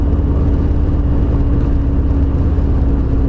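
A 2018 Harley-Davidson Fat Boy engine runs steadily at about 2800 RPM, giving a loud, close, continuous rumble with a thin sustained whine over it.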